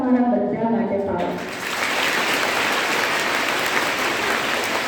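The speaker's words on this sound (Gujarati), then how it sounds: "બહુ જ બધી તાળીઓ તમે બધા તમારા બધા માટે પાડો" Schoolchildren in a hall break into loud sustained applause after an adult voice speaks briefly at the start, the dense clapping then running on evenly to the end.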